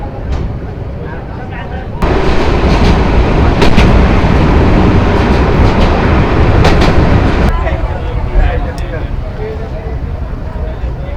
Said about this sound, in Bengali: ট্রেন আবার ছেড়ে দিল